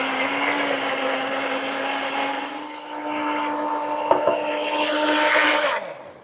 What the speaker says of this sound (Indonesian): Udah, kita blender yuk.